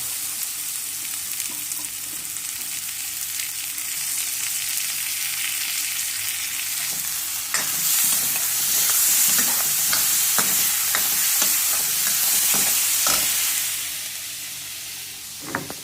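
Onion and tomato frying in a pan for egg masala gravy, a steady close sizzle with scraping spatula strokes during stirring, which grow louder and busier midway.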